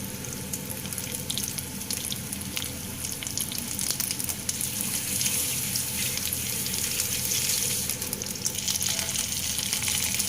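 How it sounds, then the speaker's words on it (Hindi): Potato kababs frying in a pan over a medium flame, a dense steady crackling sizzle that holds throughout at moderate loudness, swelling slightly in the second half. "इसको आपको बिल्कुल मीडियम फ्लेम पे फ्राई करना है"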